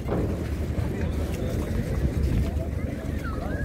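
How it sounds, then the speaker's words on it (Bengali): A boat arrives on the water for a trip toward Ross Island in the Andamans, its engine a steady, close, low rumble mixed with heavy wind buffeting throughout. "আমাদের বোট এসে গেছে"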